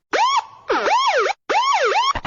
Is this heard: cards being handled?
no